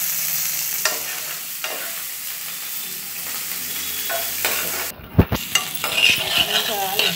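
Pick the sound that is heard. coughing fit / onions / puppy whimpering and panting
onions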